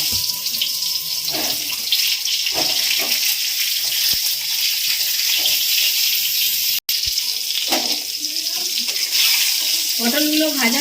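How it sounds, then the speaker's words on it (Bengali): Pointed gourd rubbed with salt and turmeric fries in mustard oil in a kadai, giving a loud, constant sizzling hiss, with a voice briefly heard near the end. "নুন হলুদ মাখানো পটলগুলোকে আগে আমি ভালো করে ভেজে নেব।"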